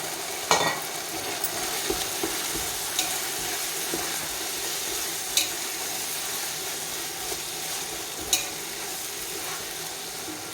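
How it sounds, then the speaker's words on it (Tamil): Chopped tomatoes sautéing in a pan for mutton biryani, a steady close sizzle with occasional scrapes and taps of a stirring spoon, no talking. "இது நல்லா வதங்கட்டும். தக்காளி நல்லா குழஞ்சி வரணும்."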